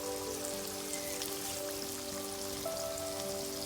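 Ginger garlic chili paste sizzles in hot oil in a pan for chilli chicken manchurian, giving a steady, dense crackling hiss that carries on without a break.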